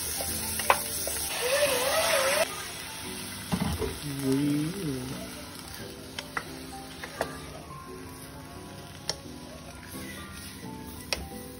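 Garlic fries in a pan with a lively sizzle that is loud at first and then settles into a softer crackle, with sharp clicks of stirring and a voice talking briefly over it.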